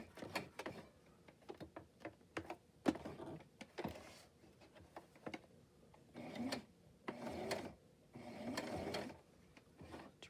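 A home sewing machine stitches along a marked line in short, uneven bursts of whirring and clattering, stopping and restarting while the fabric is guided, quiet and close.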